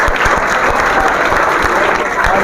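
Sustained applause from a seminar audience at a coaching class in Bhiwani, welcoming a professor: a dense, steady wash of many hands clapping at close range, with a faint voice underneath.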